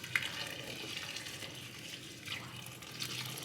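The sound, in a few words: pouring water into a cooking pot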